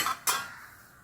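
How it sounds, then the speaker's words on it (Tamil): Two quick splashy bursts of water pouring out, close by, followed by a fading wet hiss as the pot drains. "வெந்துருச்சு வடிகட்டிடலாம்"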